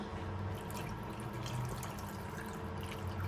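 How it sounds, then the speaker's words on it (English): Water poured into a pot of Ghanaian-Ivorian cocoyam porridge cooking with cocoyam and plantains, a steady, close, continuous rushing pour lasting throughout with no voices. "Add more water."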